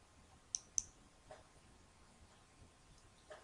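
Two quick, crisp computer mouse clicks close together near the start of a quiet stretch of room tone, followed by a few fainter ticks.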